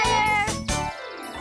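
A cat meows in a children's show, several quick high-pitched meow calls in succession, close and clear, mixed with a musical background and no talk.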